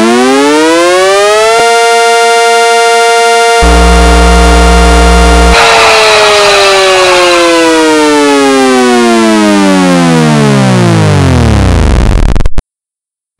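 A siren in the style of a tornado warning siren, loud and harmonic, shifting through stepped pitches and then winding down in a long descending wail before cutting off abruptly.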